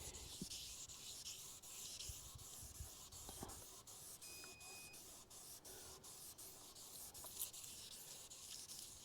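Steady, raspy sanding hiss as primer is rubbed down on a Smart car panel, continuous and close with small strokes and scratches throughout.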